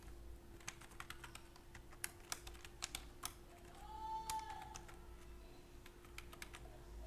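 Computer keyboard keys clatter in uneven bursts while code is typed for an ASP.NET Core MVC app, the clicks close and crisp over a steady low electrical hum, with a short pause midway.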